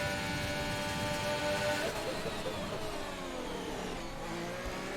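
Formula 1 car engine in the F1 2021 video game on a qualifying lap at the Jeddah circuit, a steady, loud, close whine with rising and shifting revs throughout.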